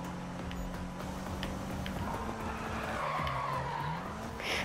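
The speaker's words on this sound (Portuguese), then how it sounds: "puxei muito freio de mão" Car tires skidding and squealing after a hard pull on the handbrake in a Need for Speed racing game, a sustained screech over steady engine drone, continuing for several seconds.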